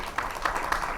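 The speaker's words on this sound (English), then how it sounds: "So let's clap for AP" A conference audience at a climate journalism event claps together, a brief burst of dense, even applause at moderate distance that holds steady for about a second.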